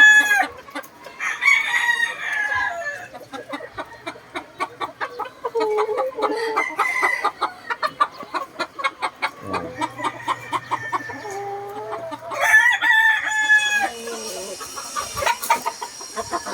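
Bone Crusher hatch gamefowl rooster crowing close by, with several crows and busy clucking from nearby fowl, mostly free of talk.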